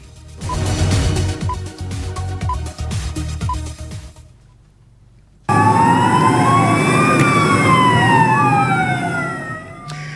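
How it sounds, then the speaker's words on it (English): Ghana National Fire Service fire engines at a market fire: a rumbling, noisy start gives way to loud, close, wailing sirens sweeping up and down over one another. "The sound of fire tenders as personnel of the Ghana National Fire Service worked tirelessly to extinguish fire"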